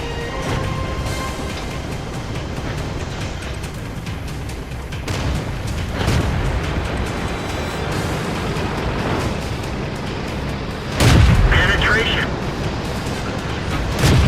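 Tank cannons fire in the World of Tanks video game, with several heavy booms over a constant engine rumble. One sharp, louder blast lands near the end, and a commentator talks throughout.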